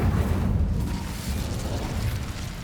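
Fire spell blasts in the Hogwarts Legacy video game: a loud, sustained rumbling burst of explosive noise that fills the whole moment with no pause.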